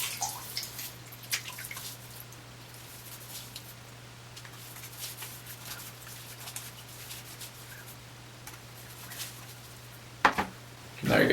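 Bloom water from shaving soap is splashed and dabbed onto a face by hand: soft, close wet patter and drips over a quiet background, ending with a couple of louder splashes and rustles.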